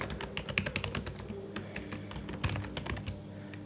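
Continuous typing on a computer keyboard while React code is written, a fast, uneven run of close, light key clicks with no talk.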